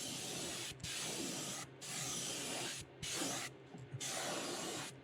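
An airbrush sprays a light coat of candy paint onto a shad fishing lure in short bursts, with a steady hiss broken by about four brief pauses.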